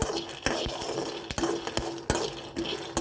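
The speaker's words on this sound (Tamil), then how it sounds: "கடலையே இந்த அளவுக்கு நல்லா வறுத்துக்கோங்க." Peanuts being dry-roasted in a pan for aval laddu, stirred with a spoon that scrapes and clacks against the metal in irregular sharp knocks over a soft rattle, close and fairly quiet, no voices.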